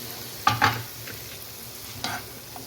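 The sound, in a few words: frying potatoes in masala for aloo dum biryani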